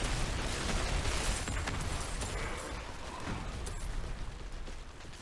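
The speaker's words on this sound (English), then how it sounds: "Bombs everywhere." Bombs exploding in the action game Diablo IV, a dense, continuous rumble of overlapping blasts and bursts at steady loudness, with no voices over it.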